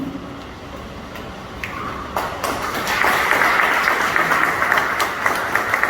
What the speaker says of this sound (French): je vais vous inviter à applaudir pour le conseil d'administration